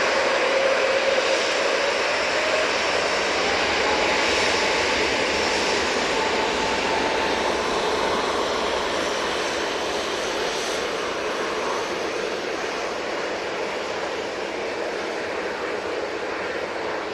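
An EasyJet airliner taking off from Manchester Airport makes a sustained, loud jet roar that stays steady and broad, easing very slightly as it climbs away.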